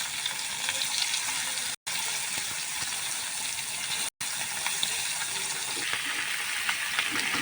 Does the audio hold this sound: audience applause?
no